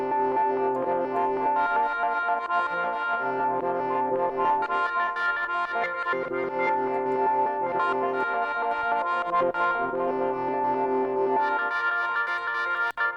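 A continuous synth melody drenched in effects, with distortion, chorus and echo giving a thick, warbling, processed tone throughout.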